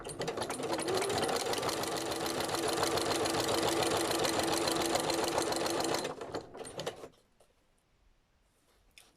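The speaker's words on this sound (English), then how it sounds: "So I'm just going to zigzag down here, hopefully catch that on there." A sewing machine runs a steady, fast zigzag stitch over decorative cord at a setting near 5, loud and continuous for about six seconds before slowing and stopping, leaving near silence.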